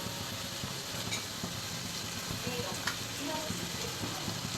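Ground shallot paste frying in a pan for chicken biryani, giving a steady, close sizzle that runs evenly throughout with faint stirring clicks and no talk over it.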